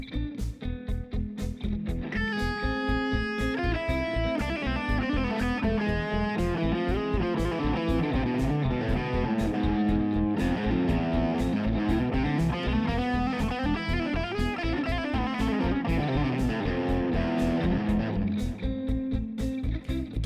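Distorted electric guitar plays a fast Phrygian dominant scale line over an E pedal in a shred style, with dense continuous notes at a steady loudness from start to finish.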